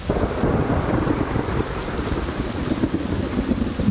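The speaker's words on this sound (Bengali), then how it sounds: "মুষলধারে বৃষ্টি।" Heavy downpour rain effect in a radio drama, a dense continuous rumbling wash of rain with low thundery roll and wind, steady and fairly loud with no voices.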